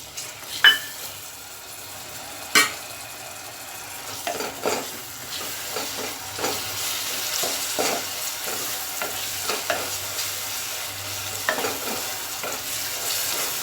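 Ginger garlic paste fries in a pan for a Bengali-style chicken potato curry, a steady sizzle broken by repeated scraping stir strokes and a few sharp utensil clacks, close and alone with no talking.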